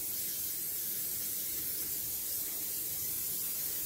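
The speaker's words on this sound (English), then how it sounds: "So I like to continue that by spraying my pan with olive oil" Olive oil Pam cooking spray hisses steadily into a pan for a few seconds, a soft continuous aerosol spray heard close and alone.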